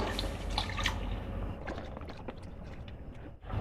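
About two cups of water go into a cooking pot of potatoes frying for aloo keema: a steady splashing pour gives way to scattered drips and trickles over a low kitchen background.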